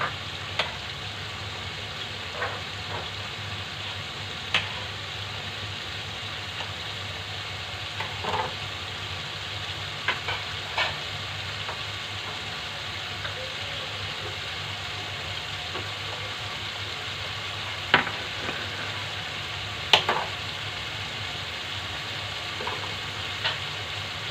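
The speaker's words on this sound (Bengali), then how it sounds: "মশলা ভালো করে কষানো হয়েছে" Spices sautéing in a pan for a koi fish and tomato curry, with a steady low sizzle throughout and occasional soft clinks and stirring scrapes, close and fairly quiet.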